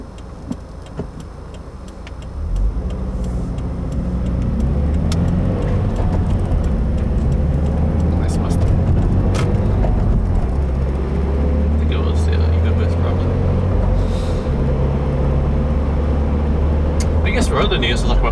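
A 2015 Subaru WRX cold-starts, with a soft engagement sound, then a steady, loud idle with a rhythmic ticking pulley noise running through it, close by.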